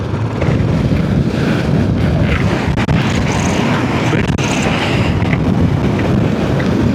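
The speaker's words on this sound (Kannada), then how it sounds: "ಸಿಕ್ಕಾಪಟ್ಟೆ ಗಾಳಿ ಇದೆ" Strong wind at the Khardung La mountain pass batters a motorcycle rider's microphone, producing a loud, steady roaring rumble with constant buffeting and no clear speech.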